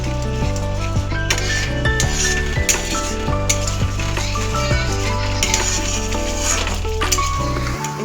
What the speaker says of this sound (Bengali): এই যে দেখো বন্ধুরা, আলুগুলো দিয়ে দিলাম কড়ায়।